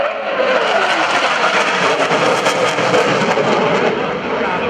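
Loud, close roar of a Hornet jet coming in to land at a Navy airshow, a steady broadband engine rush that fills the whole stretch with slight swells, and crowd or announcer voices faintly underneath.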